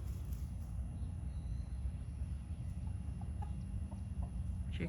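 Chickens cluck in a few short, faint calls over a steady low outdoor rumble, with no one talking.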